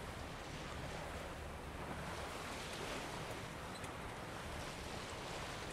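Wind sweeps steadily across an open coastline in The Witcher 3, a constant broadband rushing roar like surf and gusts, moderately loud with no voices.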